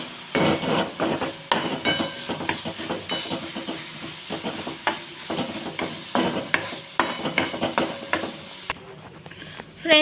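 Spices stirred together in a pan for a Kathiyawadi-style sev onion curry, with a spoon scraping steadily in repeated close strokes over a faint sizzle.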